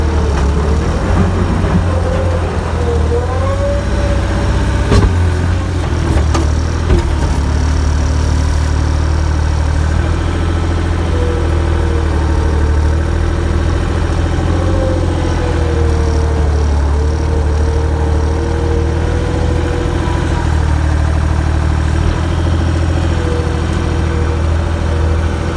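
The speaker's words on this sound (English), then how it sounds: "Now eventually I'll have to drive the tractor forward" Farm tractor engine idling steadily during fall manure application, a loud low rumble with a constant hum, continuous for the whole stretch, with a brief clank partway through.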